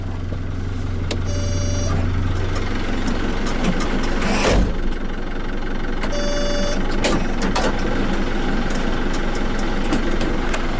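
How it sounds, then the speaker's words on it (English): The automatic door of a 2010 Toyota Coaster bus runs twice with a whirring motor hum and mechanical clunks, over the bus engine idling steadily nearby. "It's got the automatic door."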